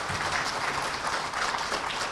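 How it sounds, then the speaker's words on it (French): A crowd at a political party event in Conakry gives steady, dense applause, many hands clapping at once at moderate loudness. It runs evenly throughout with no voices. "S'il vous plaît qu'on applaudisse."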